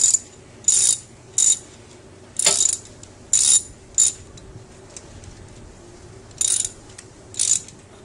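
A ratchet wrench tightens the drain plug and bolts on a motorcycle during an oil change: eight short bursts of quick ratcheting clicks, close and crisp, with quiet pauses between and no talk.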